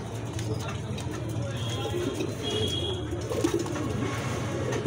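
Domestic male pigeon cooing while held beside a female at a pigeon sale, with soft, repeated throaty coos under a low background hum and occasional voices nearby.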